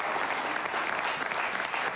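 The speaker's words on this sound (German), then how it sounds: "Alles für mich der Applaus?" A studio audience at a German television talk show applauds steadily, a dense even wash of clapping that stays fairly soft throughout.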